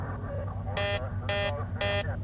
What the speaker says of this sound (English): It's a non-pressurization warning, but it sounds identical to another alarm.